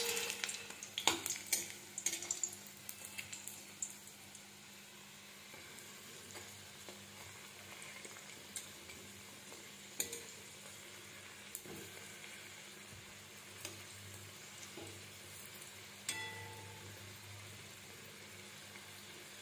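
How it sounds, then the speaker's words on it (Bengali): Small gram flour bora fritters fry in oil, giving a soft, even sizzle with scattered crackles and a few sharper utensil clatters near the start. "এইভাবে সবকটা বড়া ভেজে নেব"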